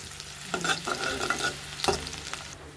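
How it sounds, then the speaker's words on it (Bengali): Chopped onions frying in heated oil before okra goes in: continuous bright sizzling up close, with spoon scrapes and a louder clattering burst midway as the pan is stirred, no talking. "পেঁয়াজ দিয়েছি, পেঁয়াজটা ভাজা হলে ভেন্ডিটা দেবো।"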